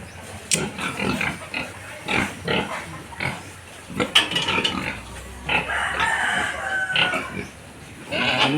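Fattener pigs on a small farm grunt and oink in repeated close bursts, with chickens faintly clucking in the background.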